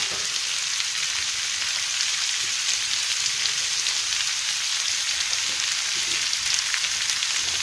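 A pan of English-style pumpkin ragout sizzles steadily as it is stirred and heated, a continuous close frying hiss with no voices over it.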